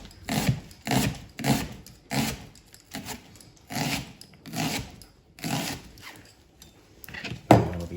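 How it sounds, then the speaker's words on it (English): A kitchen knife slices onions into strips on a board for bacon jam, giving a series of about ten crisp, rhythmic chops spaced roughly half a second apart, close and moderately loud with no talking. "So I'm just gonna do just a few little strips of onions."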